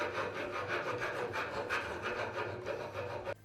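Metal file rasping back and forth on a small part held with electrical tape during a Showa ATV/dirt bike shock absorber rebuild, a close, steady scraping with no voices.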